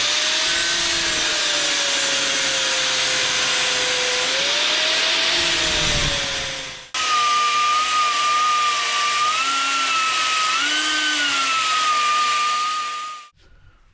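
A power drill bores holes into a metal mounting plate for a BMW adventure bike project in two long, loud runs, its motor pitch rising and falling under load, with a brief pause between them.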